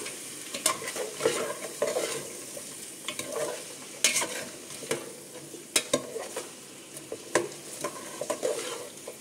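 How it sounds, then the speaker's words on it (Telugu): Veg pulao stirred in a frying pan, a low continuous sizzle broken by irregular scraping strokes and sharp ladle taps against the metal, close by with no talking. "మెల్లగా కలుపుతాం"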